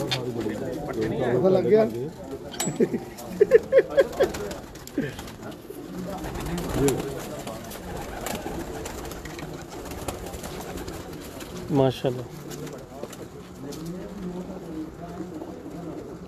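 Pigeons, prized breeding birds, coo in bursts of low rolling calls nearby while people talk over them.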